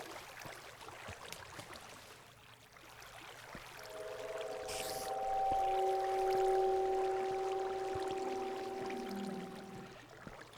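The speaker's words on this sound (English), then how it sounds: "I cannot imagine a better moment for a cave sound than that one" A Minecraft cave ambient sound plays underwater near a stronghold: an eerie, low, sustained tonal drone with a few steady pitched layers that swell in and fade out over several seconds, alone and fairly quiet.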